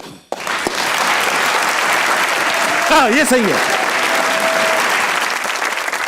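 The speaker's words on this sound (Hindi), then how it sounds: "तालियां।" A studio audience on a Pakistani comedy talk show breaks into sustained, steady applause that fills the room, with a host's voice speaking briefly over the clapping.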